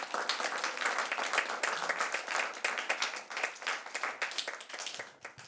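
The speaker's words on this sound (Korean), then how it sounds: "박수 한번 쳐주십시오." A church congregation claps in steady, dense applause through a worship service, a sustained patter of many hands that carries on unbroken for several seconds.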